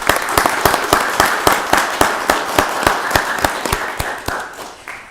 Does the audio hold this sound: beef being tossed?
no